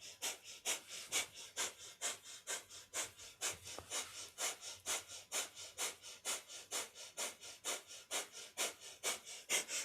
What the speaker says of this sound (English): And we hold this mudra or this posture with a breath of fire.